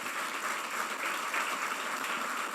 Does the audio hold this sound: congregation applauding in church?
yes